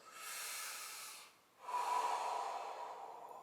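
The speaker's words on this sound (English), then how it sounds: "keep breathing normally, and we'll take 1 or 2 more minutes here. So go ahead and keep going. Deep inhales, deep exhales." Slow, deep human breathing during a guided morning relaxation routine: one long airy breath, a brief pause, then a second fuller breath, close and steady with no talking.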